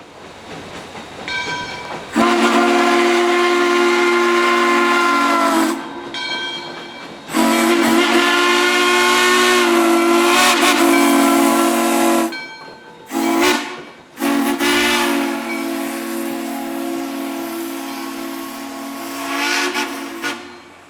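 Steam locomotive Washington & Lincolnton 203 rolls past loudly, its steam whistle sounding in several long blasts separated by short gaps, with rumbling train noise underneath.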